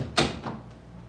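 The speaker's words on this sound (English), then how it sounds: "as I shut the door behind me here" A door shut behind someone indoors, one sharp close with a short knock and a fainter second thud a moment later, near and fairly loud, with no talk over it.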